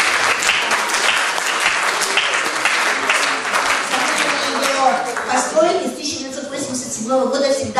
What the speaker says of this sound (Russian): Здесь должны быть аплодисменты громкие.